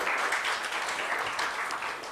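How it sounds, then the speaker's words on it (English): Loud, dense round of applause from an audience for event participants, a steady wash of clapping sustained without pause. "So please give a loud round of applause to all the participants"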